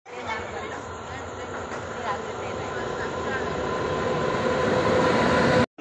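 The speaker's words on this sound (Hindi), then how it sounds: "देखिए अभी सुबह सुबह स्टेशन का परिसर ऐसी है।" Morning at Brahmapur railway station, a train rumbles along the platform with a continuous heavy roar that swells steadily louder, mixed with a dense background of station noise and distant voices.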